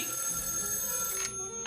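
A telephone rings indoors in a family home, a short electronic trill that holds steady and then breaks off; nobody speaks.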